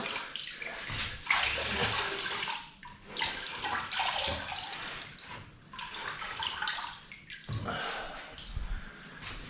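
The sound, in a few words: washing grout off tiles with a sponge and water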